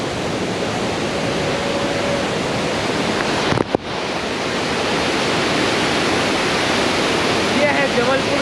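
The Dhuadhar waterfall at Bhedaghat near Jabalpur roars as a steady, loud wash of rushing water that fills the whole clip, with a short gust-like dropout midway.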